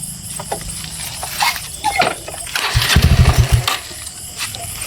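A motorcycle engine is kicked over, turning over with a loud rapid chugging burst near the middle amid rattles and thumps, then falling back without settling into a steady idle.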